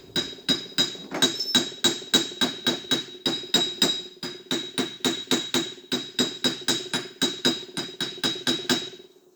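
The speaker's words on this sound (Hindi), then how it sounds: "मैं हल्का सा इसको ऊपर उठा के और हथौड़े की मदद से जो है वो" A hammer striking a hydraulic breaker part from a Bobcat HB 880/HB 980 breaker to seat it, about thirty sharp metallic blows in a fast, steady rhythm, close and loud, with no talk.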